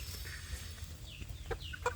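Free-range village chicks in a net-fenced outdoor pen give soft, faint clucks and a few high chirps over a low outdoor background hum, clustered mostly toward the end.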